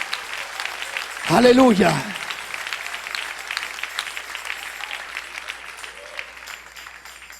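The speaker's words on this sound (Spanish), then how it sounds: "Dale un aplauso al Rey en esta preciosa mañana." A church congregation applauds steadily throughout a morning service, a dense, even patter of clapping under a voice that rises briefly near the start.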